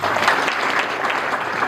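Audience at a devotional gathering applauding, a dense, steady burst of many hands clapping together, loud and close, with no talk over it.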